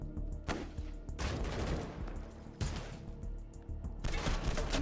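Bursts of video game gunfire, with rapid shots that swell and fade in waves over a steady background. The volley is loud and close, with no talk over it.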